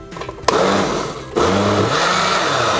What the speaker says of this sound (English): This is not that kind of blender.